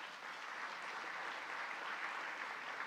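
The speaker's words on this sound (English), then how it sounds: "Let's give the Eminence a big round of applause." Steady applause from an audience at a Mother Cabrini Memorial event in New York City, a dense, even wash of clapping throughout, moderately distant and without speech.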